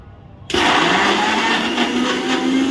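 An electric mixer grinder with a jar packed full of ice for ice gola switches on abruptly after a brief quiet moment, then whirs loudly and steadily with a grinding, rattling edge until the end.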